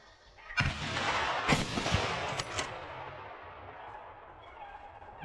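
Rifle shots fired at wild boar during a driven hunt outdoors, with a loud sharp report near the start followed by further cracks about a second apart, each trailing into a long fading echo.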